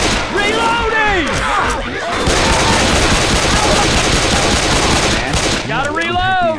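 Loud, sustained automatic gunfire from Left 4 Dead 2, dense rapid bursts with brief gaps between them, each burst ringing with echoing reports that fill the mix.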